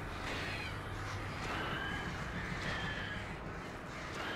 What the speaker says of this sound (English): Birds are the worst type of enemy